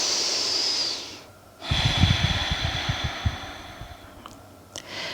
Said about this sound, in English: Nice deep breath. Exhale